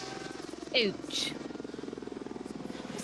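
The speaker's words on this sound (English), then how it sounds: "It sounds like the rotators of a helicopter." A steady rhythmic thumping pulses like helicopter rotors over a Formula 1 sprint shootout broadcast at the Qatar Grand Prix, a regular beating throughout, with a brief spoken exclamation over it.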